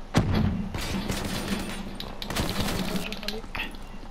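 Heavy machine gun fire in Call of Duty: Black Ops 3 online play, rapid bursts of fairly close shots with thuds, heard under a player talking.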